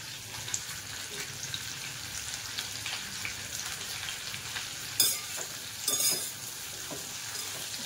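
Curry leaves frying in oil, for crisp poha chivda, make a faint continuous sizzle with a few sharper crackles and stirring clatters near the end, with no voices.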